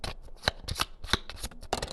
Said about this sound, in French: je remélange les cartes